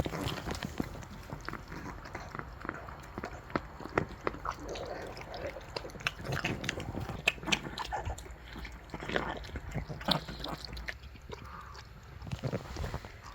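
A dog chews a treat up close, with a steady run of crisp bites and crunches against soft background noise.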